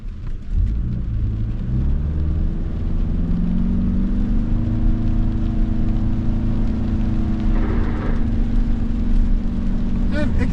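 A 2025 Toyota Crown Signia Limited pulls away from a stop with a steady, smooth engine drone that rises gradually in pitch as it gains speed, heard from inside the cabin.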